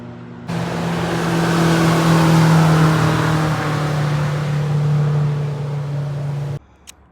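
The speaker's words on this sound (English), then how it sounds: "And you get to watch boats go by" A motorboat engine drones steadily at close range on a river in Fairbanks, Alaska, holding a low steady hum for several seconds before cutting off abruptly.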